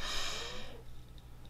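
A pug's short, raspy snorting breath close by, one drawn-out nasal wheeze that fades into quiet room noise.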